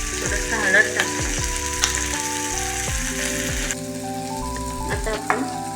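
Onion and tomato with turmeric frying in a pan for chapati upma, a steady loud sizzle under repeated scraping strokes of a spoon stirring close by.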